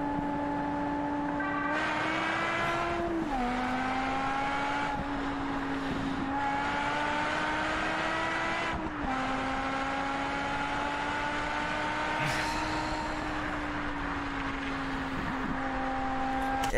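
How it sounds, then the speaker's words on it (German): Car engine during a police chase on a highway, a sustained droning hum that rises and dips as the driver shifts gears, steady and fairly loud for the whole stretch with no speech. "das Auto ist geil, der Sound ist geil"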